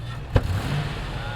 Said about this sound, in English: There's still a backfire on it.